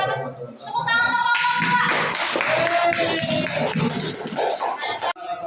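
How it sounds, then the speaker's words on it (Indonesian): Applause from a school classroom audience after an Islamic greeting at a student presentation, continuous dense clapping with voices mixed in, lasting nearly the whole clip before tapering off. "Tepuk tangan untuk"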